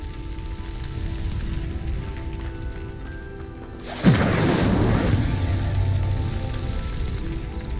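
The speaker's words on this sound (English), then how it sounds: "Incendio! But it's fierce! The flames make the pyre sink." The Incendio fire spell in Hogwarts Legacy ignites a pyre with a sudden whooshing burst after a quiet ambient stretch, then a steady, loud crackling roar of flames that carries on to the end.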